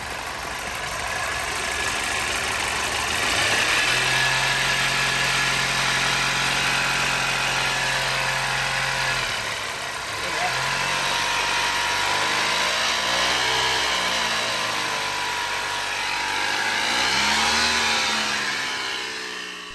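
A 2007 Audi A4 engine, ailing from oil pump trouble, revs steadily up and down for about twenty seconds, the loud running note rising and falling in uneven surges with a rough, strained edge and no talk over it.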